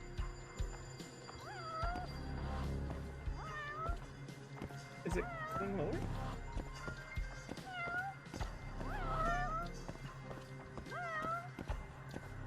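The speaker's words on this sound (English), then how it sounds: "Uses the cat's cry to guide you." A cat meows repeatedly in the video game Judgment, with about six short, clear meows spaced a couple of seconds apart over quiet game background, and a person speaks briefly.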